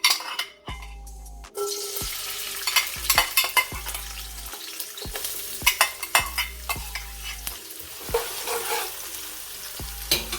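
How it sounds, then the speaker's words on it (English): Onion tipped into a hot pan for Trini curry chicken bursts into a loud sizzle, then a continuous frying hiss runs on with repeated close scrapes and knocks of a utensil stirring against the pan. "We're gonna start off with adding our onion."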